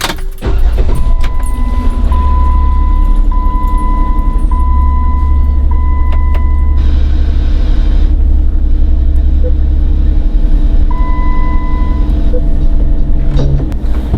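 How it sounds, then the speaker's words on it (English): A 2007–2018 Jeep Wrangler engine starts and idles steadily with a loud, continuous low rumble, alongside faint electronic chimes and tones from the vehicle. "let's start the car and test it."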